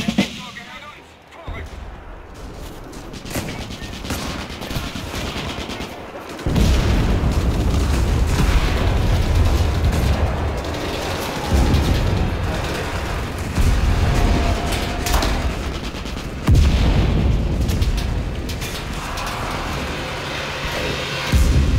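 Artillery fire and gunfire rumble through a WWII battle video game, an assault on Pokrovskoye village in the Battle for Moscow with Wehrmacht against Red Army, as heavy booms and sustained loud explosions roll continuously under dense crackling shots.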